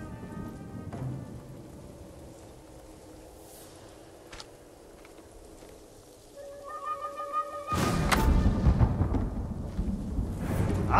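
Rain falls steadily through a storm in the video game Ghost of Tsushima, and a heavy crack and rumble of thunder breaks in loudly partway through, over the constant hiss of the downpour.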